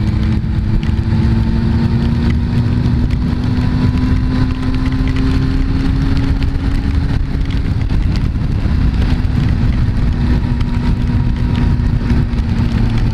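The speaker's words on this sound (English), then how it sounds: "right now I'd like to be under cover instead of all this rain coming down on me." Heavy rain during a motorcycle ride on a high-powered liter bike makes a dense, loud wash of hiss and wind noise over a steady engine drone, constant throughout with no talk.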